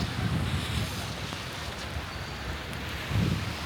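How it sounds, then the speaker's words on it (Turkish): Rain falling outside a hotel in Sarajevo, a steady soft hiss with some wind buffeting on the microphone, fairly quiet and continuous. "Yağmur yağıyor."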